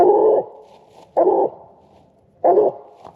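A hunting dog on a coon hunt barks in three loud, close bursts, each about a third of a second long, separated by roughly a second of quiet.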